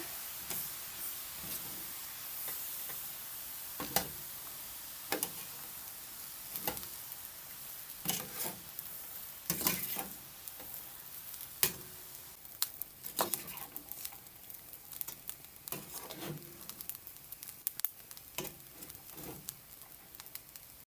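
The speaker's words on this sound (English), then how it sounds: "I'm gonna add some soya sauce. Giving it a stir." Egg fried rice with frankfurter and soy sauce being stirred in a pan, a steady close sizzle broken by scraping knocks of the utensil against the pan every second or two.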